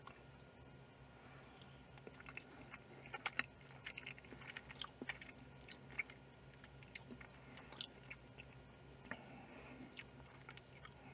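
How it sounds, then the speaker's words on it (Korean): Close, quiet chewing of a Philadelphia cube cheesecake with a nutty almond or peanut layer on one face, soft squishy bites with a few crisp crunches spread steadily through, no talking. "이건 뭔지 한번 먹어볼게요"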